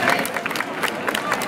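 An outdoor crowd at a town event applauding, a dense wash of close clapping with uneven bursts, lasting the whole short moment under some background chatter.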